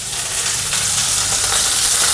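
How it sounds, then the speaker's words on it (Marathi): Large square-cut onion pieces hit a hot pan over high flame for chicken crispy, a loud, dense, continuous sizzling hiss close up that stays steady throughout with no voices. "हा मी याच्यामध्ये कांदा घालते।"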